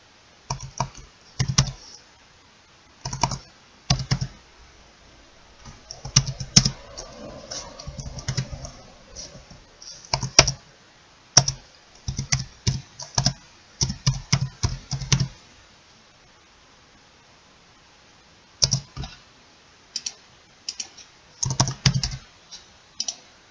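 Clattering keystrokes as code is typed on a computer keyboard for a Small Basic program, coming in short irregular bursts of clicks separated by pauses, close and fairly quiet with no voices.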